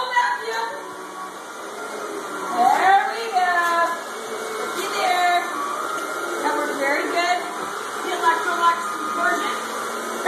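An Electrolux vacuum cleaner, the plastic 1980 Olympic Winter Games edition, runs with a steady, high-pitched motor whine under people talking nearby.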